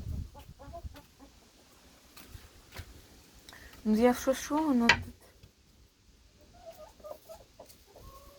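Adult hens on a small poultry farm cluck, with a short loud burst of clucking mid-clip and softer clucks later, while someone talks quietly in between.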